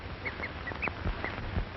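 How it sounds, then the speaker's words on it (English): A cheetah gives several short, bird-like chirping calls at irregular intervals, fairly faint and distant over soft background noise. "A cheetah slinks off, uttering his odd bird-like call."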